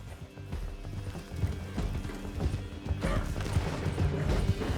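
A horse gallops in Red Dead Redemption 2, its hooves pounding in a fast, steady rhythm against clattering mechanical noise and a chaotic chase soundscape. There is no speech.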